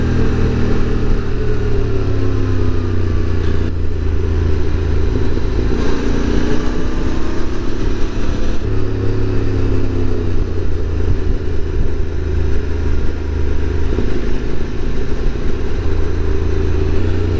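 A QJ SRT600SX motorcycle engine drones steadily and loudly while riding a Pyrenees mountain pass through trees, its pitch shifting with gear changes and throttle, backed by constant wind rumble.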